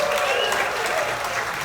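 A cruise ship comedy show audience breaks into a brief, dense burst of applause, many hands clapping together in a steady roar with a faint murmur of crowd voices.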